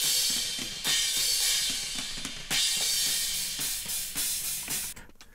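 Drum overheads for an old-school thrash metal mix, sent through a BSS DPR 402 analog compressor: a bright cymbal wash over steady, punchy drum hits, loud and continuous.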